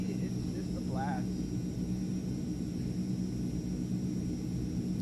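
Airplane in Microsoft Flight Simulator 2020, a steady low engine rumble and drone on a group flight over Vietnam, continuous and fairly quiet throughout.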